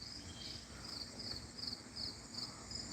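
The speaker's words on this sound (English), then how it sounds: "We got the bees coming there." Bees buzzing outdoors: a steady, moderately close insect drone with a high shimmering layer, continuous through the clip, with no voices.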